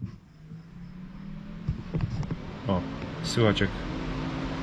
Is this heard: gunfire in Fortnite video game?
no